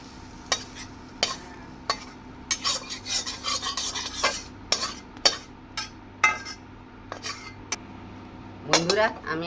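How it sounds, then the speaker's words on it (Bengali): A kadai being handled on the stove after frying, with repeated sharp metal clanks, scrapes and spoon clinks in irregular bursts, close and loud, no voices. "আমি আরেকটা যে থালা কড়া বসিয়ে দিচ্ছি"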